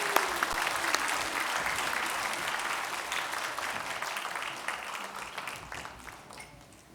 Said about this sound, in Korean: 다시 큰 박수 격려로 부탁드리겠습니다